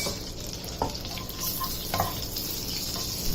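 Butter and oil sizzle steadily in a pan while being stirred, a continuous close frying hiss with a few soft scraping clinks of the utensil.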